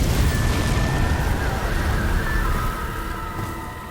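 A Confringo spell explosion in the Hogwarts Legacy video game bursts as a loud, rumbling boom that sustains and slowly tails off over a few seconds.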